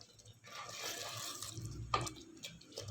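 Water poured into a pan of chicken Manchurian gravy while cooking, a soft splashing pour with faint drips, steady over the whole stretch and fairly quiet, with no talking.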